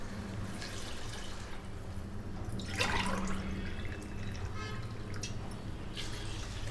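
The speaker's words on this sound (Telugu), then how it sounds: "1/2 కేజీ బియ్యానికండి ఇదిగోండి వాటరు 2 గ్లాసులు పోసుకుంటున్నానండి" Two glasses of water are poured onto half a kilo of rice for chicken pulao, giving a faint, continuous trickling splash in a quiet kitchen.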